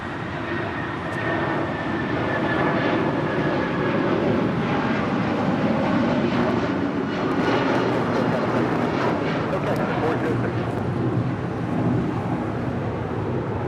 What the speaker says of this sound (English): This is United Airlines 406 departing to Denver on a 757-300.